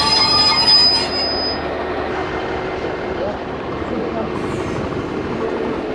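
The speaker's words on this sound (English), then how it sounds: "train number 2 at St Earth on the way to St Ives" Train wheels squeal sharply for about a second and a half on the St Ives branch line near St Erth, then give way to a steady rolling rumble of the carriage, with voices murmuring faintly underneath.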